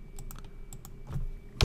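Typing on a computer keyboard, a few soft, irregular key clicks close by in a quiet room, ending in one louder tap.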